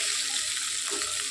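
Bhetki fish bones frying in a pan give off a steady close sizzle and crackle, with a few brief stirring scrapes near the end and no talk.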